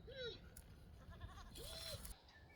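Goats bleat a few times from a front garden area, wavering calls at moderate distance over steady outdoor background noise, with faint talk.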